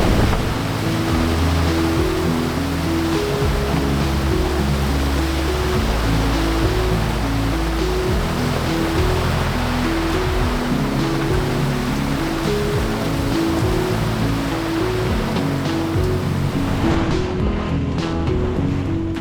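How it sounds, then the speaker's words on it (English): Heavy rain pouring onto the open Pacific Ocean from a sailboat, a dense, loud, steady hiss mixed with wind and water rush that continues throughout. "ocean looks when there's so much rain on it"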